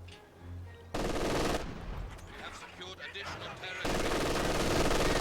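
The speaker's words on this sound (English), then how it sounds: "MG putting more fire down from DevM" Machine gun fire rattles in Company of Heroes 2, with dense bursts of rapid shots and explosive battlefield noise that come and go over a commentator's voice.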